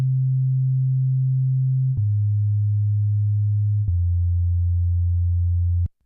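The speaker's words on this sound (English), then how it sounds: "Now when I play this, you'll see, and I'll describe this for those who are listening, you'll just see that sine wave on the frequency analyzer in Prism" Pure sine tone from an oscillator in Alchemy, a software synthesizer, held steady and alone in three segments of roughly two seconds each, each step dropping slightly lower in pitch, with a faint click at every change and a clean cutoff.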